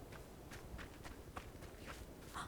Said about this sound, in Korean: 발소리 줄일게요.